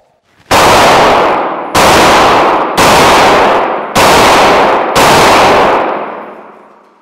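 Five loud, sharp gunshots from an HK P30 long-slide pistol firing Holliston 507 ammunition, spaced about a second apart at close range, each with a brief ringing decay and no talking.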